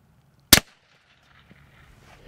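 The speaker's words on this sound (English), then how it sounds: "This is a Glock 21 45 caliber handgun wearing an Obsidian for the suppressor." One sharp, loud gunshot from a suppressed Glock 21 .45 caliber handgun fitted with an Obsidian suppressor, fired during soft armor testing, followed by quiet background with faint shuffling.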